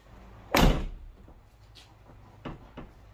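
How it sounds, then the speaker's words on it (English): A Mazda RX-7 spoiler panel is pushed down and snaps into place with one loud, close thump, followed by two fainter clicks a couple of seconds later. "we're just gonna have to push it in, and then everything should snap back together"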